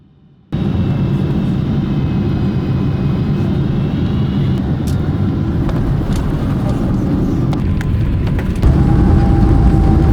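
Airliner landing at Seoul Incheon Airport after a flight from Nagoya, heard from inside the cabin as a loud, steady engine and airflow roar that rises slightly near the end.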